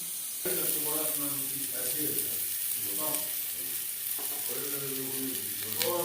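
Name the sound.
potatoes lightly frying with turmeric and salt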